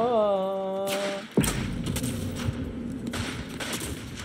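Gunfire in the online shooter Rogue Company: a sustained tone cuts off, then a loud close burst is followed by a rapid, uneven run of shots and impacts.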